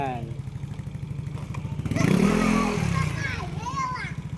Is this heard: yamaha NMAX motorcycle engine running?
yes